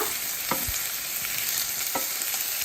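Garlic and ginger frying in sesame oil for lemon pickle, a close, even sizzle with a few sharp stirring clinks, no voices.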